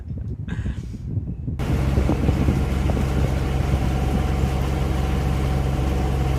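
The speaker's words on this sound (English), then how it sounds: "Motoring north out of Lake Worth." A sailboat motors north out of Lake Worth in Florida toward the inlet, its engine giving a steady, loud drone that starts after a second or so of gusty wind and then runs without a break to the end.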